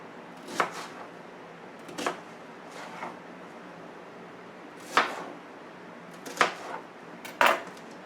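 Knife chopping big chunks of onion on a cutting board, a handful of sharp irregular knocks spaced a second or so apart, fairly close and alone over a quiet kitchen background.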